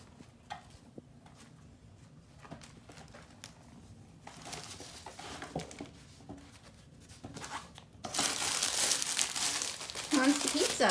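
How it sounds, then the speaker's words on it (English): Kittens scrabble over a big crinkly mat with soft rustling and crackling that swells into a loud, dense crinkle near the end, while people talk nearby. "Oh, it's a big crinkly mat."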